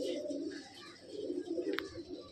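Tatira pigeons, a red pure Tatira cock with a white chest beside a black Tatiri hen, give low soft cooing in a steady murmuring run with a brief higher chirp near the end.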